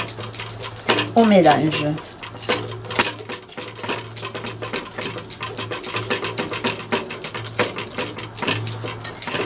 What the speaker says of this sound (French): Et je remue avec mon fouet pour incorporer la farine